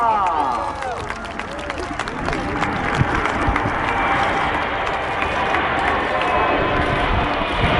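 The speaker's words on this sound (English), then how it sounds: "A strong applause for Patrulla Aguila." Large outdoor crowd at the Royal International Air Tattoo at RAF Fairford applauding the Patrulla Aguila aerobatic team, a steady broad wash of clapping and cheering, loud and continuous, mixed with distant babble.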